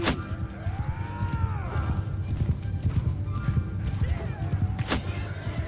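Horse hooves clip-clop steadily in Mount & Blade Bannerlord as the mount moves, joined by a couple of neighs and sharp clanks, with faint voices in the background.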